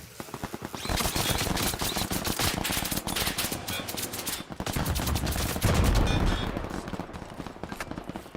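Gunfire in the online shooter game Off the Grid: rapid automatic bursts crackle almost nonstop, loud and sharp, with short gaps between volleys and a heavier, booming patch near the end.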